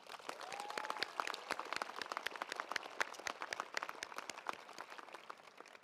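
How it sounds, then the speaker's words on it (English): Sustained applause from a large crowd at a university undergraduate commencement ceremony, dense overlapping clapping heard from some distance and holding steady throughout, with a brief whistle near the start. "Let's give them a round of applause."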